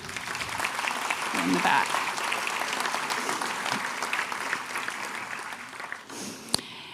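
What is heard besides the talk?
round of applause for the staff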